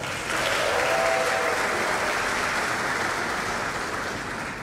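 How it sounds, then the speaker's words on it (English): A large audience at a pharmacy faculty white coat ceremony claps in sustained, dense applause that rises quickly and holds steady, loud and continuous, with no speech over it. "Thank you very much for the applause."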